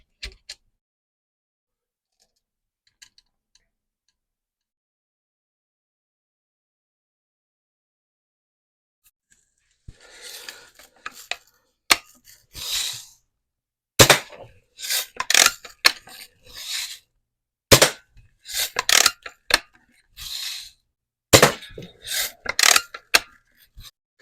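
Small screws on a Daisy electronic point sight are loosened and tightened while the mount is fitted to the scope rail of an adult Red Ryder BB gun, giving close, dry scraping and clicking bursts in irregular clusters after a near-silent start.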